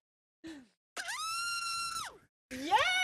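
A prize winner screams a long, loud, drawn-out woohoo down a phone line, preceded by a short vocal sound and followed by another excited yell, with no other talk.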